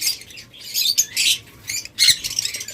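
Red-eyed lutino lovebirds of a local breed give a quick run of sharp, high chirps and squawks in close bursts, loud and near with short gaps between calls.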